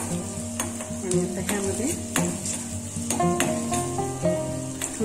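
Chopped sautéed vegetables, among them tiny pieces of shravan ghevda beans, stirred in hot oil over a high gas flame with turmeric. The sizzle is steady and close, broken by repeated scraping stirs of a spatula against the pan, and a voice speaks briefly.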